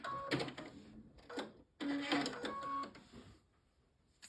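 A sewing machine back stitching a quilt seam, two short bursts of rapid mechanical whirring and clattering with a pause between them, close but fairly quiet before falling silent.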